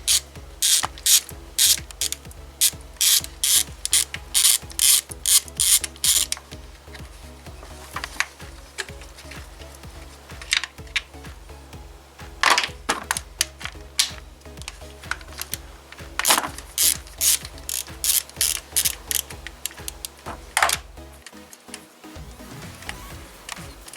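A ratchet clicks in quick bursts as the oil pan bolts are loosened one by one on a Kia 1.8/2.0 Nu engine, each rapid run of pawl clicks separated by short pauses, close up, with no speech.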